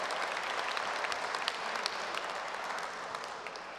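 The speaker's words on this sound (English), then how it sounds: "A very big round of applause to yourselves for being committed, disciplined, and striving for excellence." Graduation audience at an Edinburgh Napier University ceremony applauds the graduates, a dense, steady wash of many hands clapping from a large hall, even and sustained throughout.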